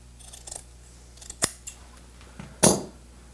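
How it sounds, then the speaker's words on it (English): Scissors trim excess burlap on a Victorian chair being reupholstered, giving two sharp, close snips with a few fainter cuts and rustles around them. "I've got some excess burlap to trim away"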